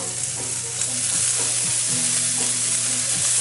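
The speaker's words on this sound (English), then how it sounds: "So I can go ahead and start putting my meat on my griddle." Thin slices of flank steak sizzle on a hot griddle, a loud, steady, close frying hiss that runs the whole time with a low hum underneath and no talking.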